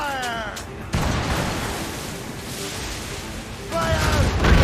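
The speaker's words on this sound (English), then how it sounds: "Cannon ready! Fire!" Ship cannons boom in a naval battle in the video game Assassin's Creed Rogue, a loud broadside roar rising near one second and sustaining, then swelling again at the end, with shouted crew voices over the din.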